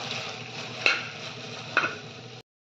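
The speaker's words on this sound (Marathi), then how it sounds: "बटाटा टाकून घेते फ्राय केलेले." Fried potatoes are stirred into chilli potato sauce in a pan, with a continuous soft sizzle and two brief scraping knocks of a spoon, close by. The sound stops abruptly at the end.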